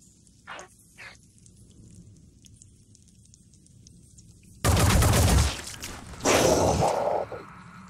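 Soldier in the tactical game Phoenix Point firing: two faint shots early, then two loud, dense bursts of automatic gunfire in the second half, close and alone with no talk.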